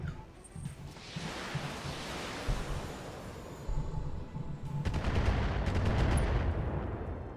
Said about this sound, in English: And firing some LRMs at our backside.